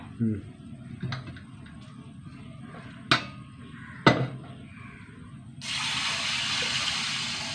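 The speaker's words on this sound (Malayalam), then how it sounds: "കുറച്ച് വെള്ളം ഒഴിച്ച് കൊടുത്തിട്ട്" Water poured over soaked green gram (moong beans) in a home kitchen, a steady broadband gush starting partway through and continuing to the end, preceded by a couple of sharp knocks and quiet background sounds.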